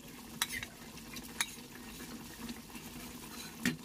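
Cornflour and soy sauce being stirred together in a bowl: soft, continuous swishing with a few light clinks of a spoon against the side, faint and close.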